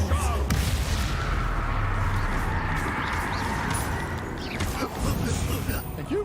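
Spell explosions from Bombarda and Expulso blasts in Hogwarts Legacy, a video game, come as dense booming bursts layered over constant battle noise, with a strong low rumble throughout.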